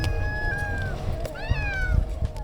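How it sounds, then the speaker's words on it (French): Cat on a sandy beach in Crete meowing in rising, gull-like cries, one long call then another about a second later, close by over steady background rumble. "il miaule comme une mouette"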